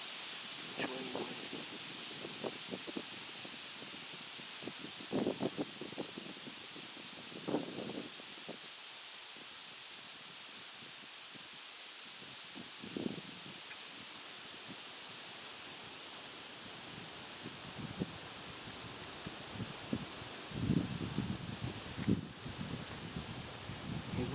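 Wind blows outdoors on a fall hunting hillside, a steady broadband hiss with soft leaf rustling swelling in brief gusts, no talking.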